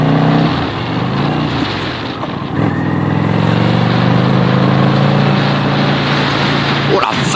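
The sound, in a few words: motorcycle riding on a winding road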